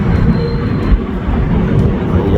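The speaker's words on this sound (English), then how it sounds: "Hey, that's a nice train over there." A train passes on a cold hillside in Japan, a steady broadband rumble of wheels and carriages rolling close by throughout, with no clear voices over it.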